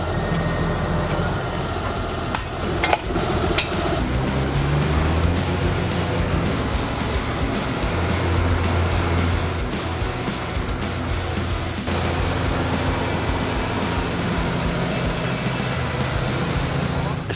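An Ozdoken Epsom SR209 rotary cultivator works soil behind a tractor, a continuous loud low engine drone with rumbling vibration and occasional clanks, while someone talks over it.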